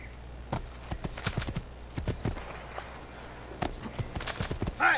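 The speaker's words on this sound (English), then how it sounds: "Okay, let's get on a horse." Hooves clip-clop in a quick, uneven trotting rhythm on a hard surface in Assassin's Creed 2, close and fairly clear, with a short whinny-like sound at the end.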